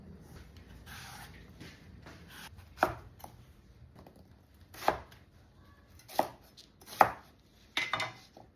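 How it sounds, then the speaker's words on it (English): Fuzzy melon is cut on a board, with a handful of distinct, separate knife chops landing at uneven intervals over quiet background handling, close and fairly crisp. "I'm gonna peel and cut our fuzzy melon."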